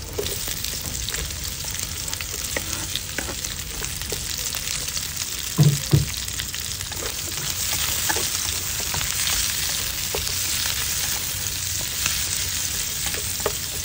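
Chopped onions sizzle steadily in a hot pan while beef pares is being cooked, a continuous close frying hiss with brief stirring scrapes and a couple of louder clanks partway through.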